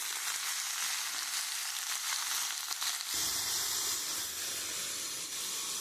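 Pumpkin added to onions frying in a pan produces a strong, steady hissing sizzle that thickens and deepens midway as the pieces hit the oil, close and constant, with no voices.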